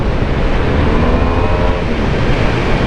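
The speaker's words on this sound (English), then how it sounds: "we're riding the Yamaha Tmax" A Yamaha Tmax 500 scooter being ridden makes a loud, continuous engine drone mixed with heavy wind rush and road rumble, steady and close throughout, with no talking.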